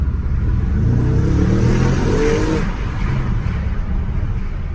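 An Audi RS7 engine and exhaust, heard from inside with the window open, holds a loud, steady low rumble that rises in a short rev before settling back.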